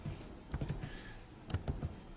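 Short run of computer keyboard typing while a word is entered into an Excel formula, a few quick clustered key clicks, close and clear, with brief gaps and no talking.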